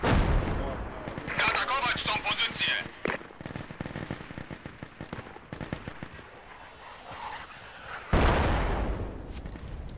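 Mortar fire and explosions in the military shooter game Project Reality, with heavy booming blasts and bursts of gunfire arriving irregularly, one loud close impact near the end, while voices talk over the battle.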